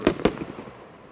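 Two sharp firework blasts from a backyard show crack close together and loud, then a fading rumble tails off.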